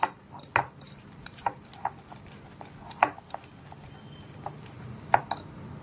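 Chakka, strained yogurt for amrakhand, is whisked or beaten in a bowl, producing sharp irregular clinks and taps of utensil on vessel against a quiet background.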